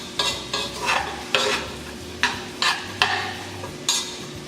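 Onion frying in butter in a small kitchen pan, a steady sizzle broken by about eight scraping stirs that come at uneven intervals, close and moderately loud, with no talking.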